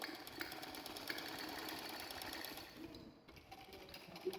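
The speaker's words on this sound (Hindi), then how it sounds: "अब हम इसकी सिलाई इधर से शुरू करेंगे।" Sewing machine stitching the side seam of a baby frock, a steady close mechanical whir running continuously with a brief dip near the end.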